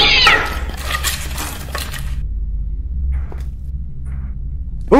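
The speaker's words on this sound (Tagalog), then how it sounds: "Ang ingay ng pusa!" A cat in the delivery game Pinoy Rider Delivery meows loudly at the start, then gives a shorter mew a few seconds later over a steady low engine-like rumble, with no voices present.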